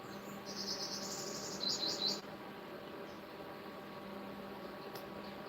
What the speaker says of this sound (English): I love the sound. Birds chirping.